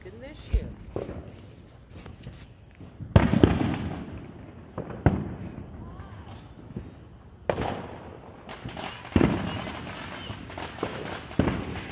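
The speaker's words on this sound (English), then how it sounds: "our family usually comes and watch the fireworks together" Fourth of July fireworks burst repeatedly, with sharp loud bangs and crackles spaced every second or two, some close and some farther off, among background crowd murmur and voices talking.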